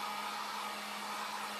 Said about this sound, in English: Inexpensive little heat gun.